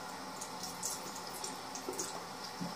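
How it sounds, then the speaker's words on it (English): Tap water runs steadily into a sink while a razor is rinsed during a mustache shave, a soft continuous splash with faint drips and clinks. "you want to keep on rinsing off your razor"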